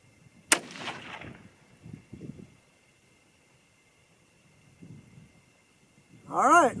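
A single sharp, loud rifle shot from a .22-250 Remington fires near the start, then quiet with faint rustling and a short tonal sound at the end.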